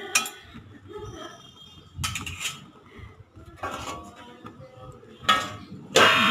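A metal lid is set onto a cooking pot of potato and pointed gourd curry, giving a few separate clinks and clatters of metal against metal at close range, with brief handling knocks and no talk.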